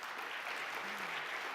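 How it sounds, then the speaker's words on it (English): An audience at a tech conference applauding, a sustained wash of clapping hands filling the hall at steady volume throughout. "I think they do deserve some applause right now"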